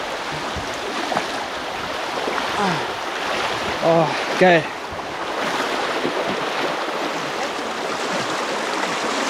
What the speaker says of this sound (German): Wir sind am nächsten Fluss angekommen.